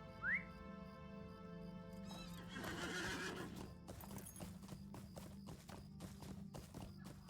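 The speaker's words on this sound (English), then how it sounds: "Actually, I think we're going to get on a horse." A horse in Lord of the Rings Online gives a quick high whinny and snort, then its hooves clip-clop at a steady, even trot, close and clear against quiet game ambience.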